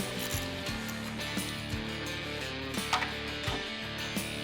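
A wrench working corroded bolts loose after a soak in Kroil penetrant in an auto shop: sharp creaks, clicks and metallic knocks come in short bursts over a steady low background hum.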